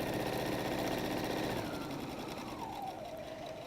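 A sewing machine runs a steady, fast mechanical whir as it stitches down the side of a messenger bag, with the pace easing slightly toward the end.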